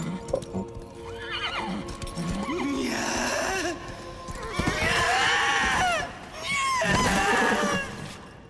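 A horse from the video game Darksiders 3 whinnies loudly several times, with clip-clopping hooves underneath, and a voice briefly joins in the middle.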